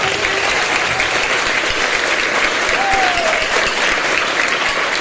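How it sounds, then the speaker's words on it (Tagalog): Loud continuous applause from parents at a school graduation ceremony, a thick wash of clapping that stays strong and even from start to finish, with a faint whistle-like tone passing briefly in the background. "Palakpakan na malakas"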